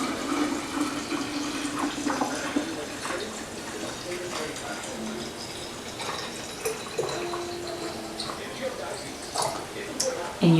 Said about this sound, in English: So I'm going to pour in some of the kefir water that was just fermented.